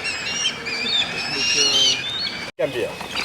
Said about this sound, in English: Now there's a lot of birds.